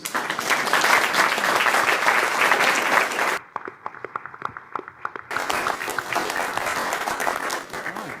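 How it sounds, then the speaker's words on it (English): Applause from the audience at a city council candidates forum, a dense crowd clapping that briefly thins and drops away mid-clip before swelling again, moderately loud and continuous. "Applause."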